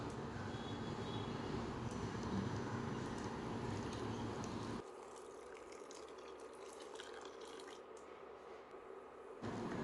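Boiled milk poured into a pot of sago vermicelli payasam, a steady liquid splashing and filling sound that runs close and continuous for about half the clip before cutting to a quieter simmer.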